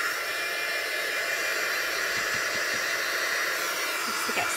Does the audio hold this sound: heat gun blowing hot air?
yes